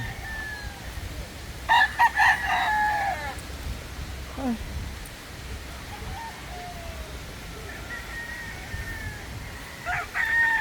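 A white Boston breeder rooster on a farm crows twice in loud, ringing calls, with chickens clucking and scattered farmyard sounds between the crows.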